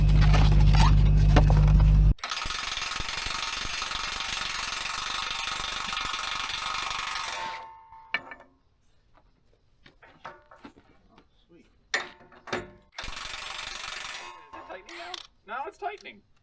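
A 3,000 pound torque tool working on a Dresser TD25G bulldozer: a loud sustained mechanical whir with ratcheting clatter, then cutting out to scattered clicks, knocks and bursts of sound.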